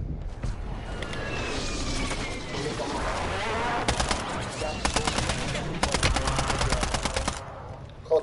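Sniper and rapid gunfire ring out in a video game firefight, with bursts of fast repeated shots in the later part over a steady noisy backdrop, while voices talk.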